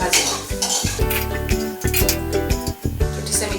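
Sweet potato pieces added to hot oil left from frying fish and stirred, with sharp metallic clanks and scrapes of a utensil against the pan in quick, irregular succession and a faint sizzle underneath.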